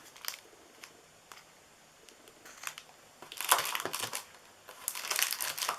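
Soft crinkling and crisp snips of paper being cut for a gingerbread house treat box, scattered at first, then a denser run of close cutting and rustle near the end.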